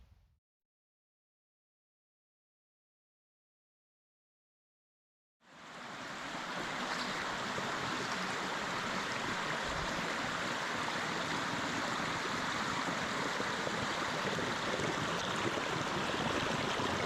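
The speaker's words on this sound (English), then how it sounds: "the water wheel works pretty well" A homemade water wheel turns in a stream, giving a steady, loud rush of flowing, splashing water that starts abruptly after about five seconds of silence and continues unbroken.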